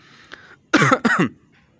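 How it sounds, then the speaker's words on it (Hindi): A person coughs twice in quick succession, close and fairly loud, after a faint throat sound, then quiet, while playing Free Fire. "थोड़ी सी खांसी आ गई"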